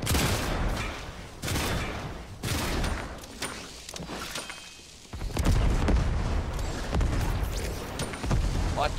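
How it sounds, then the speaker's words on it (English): Fortnite gameplay brings bursts of rapid gunfire, repeated volleys of loud close shots with booming impacts in irregular clusters, heavier in the second half. "I'm just firing randomly."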